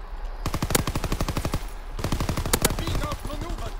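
Rapid automatic gunfire in a Call of Duty WW2 match, two long loud bursts of evenly spaced shots separated by a short pause, with a voice speaking over the firing.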